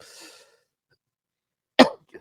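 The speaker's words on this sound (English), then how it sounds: "I had a cough there" A single sharp cough breaks out after a stretch of silence, close and abrupt, followed by a short breathy catch.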